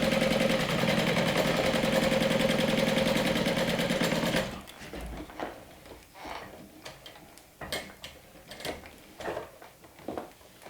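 A sewing machine top stitches a crossbody bag, running in a dense, steady mechanical whir for about four seconds, then stopping and giving way to quieter scattered clicks and handling taps.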